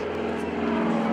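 Propeller airplane passing at the NAS Oceana airshow with its landing gear extended, a steady loud droning engine roar with a rising edge, as if close overhead, no speech.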